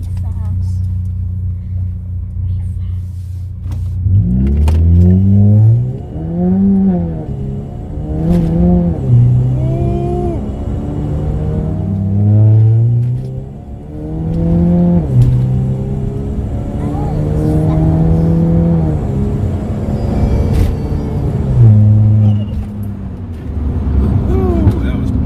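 A Chevrolet Cruze accelerating hard with traction loss, its engine revving up through repeated rising gear pulls, loud and close inside the cabin, with a voice occasionally heard over the engine.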